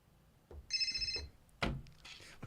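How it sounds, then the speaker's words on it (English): A telephone bell rings in a single short burst of metallic trill, then a sharp knock follows, heard close and fairly quiet in an indoor setting with no voices. "It rang again when you put the phone down."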